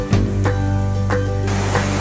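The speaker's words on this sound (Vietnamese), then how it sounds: "Trước cái cửa hàng này có một con suối rất là đặc biệt các bạn nhé" A special mountain stream flows in front of a shop near a cave at Hoai Thao, Nguyen Binh, Cao Bang, making a steady, close rushing wash of water with a few louder surges.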